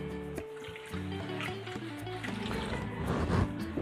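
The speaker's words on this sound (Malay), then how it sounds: "kemudian saya tambah sedikit air" A little water is poured into a cooking pan with coconut milk while preparing beef-skin sambal, a trickling, gurgling fill at moderate level with no voices.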